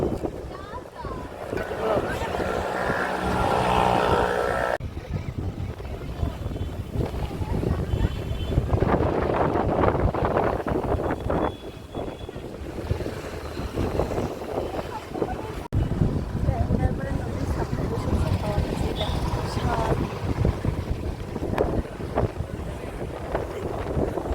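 A motor launch boat churns along on the water with a continuous low engine rumble and heavy wind buffeting close to the microphone, and a voice can be heard over it.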